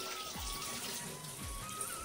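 Tap water runs steadily, filling a container for pouring into a drum, a close, continuous gushing stream heard alone for about two seconds.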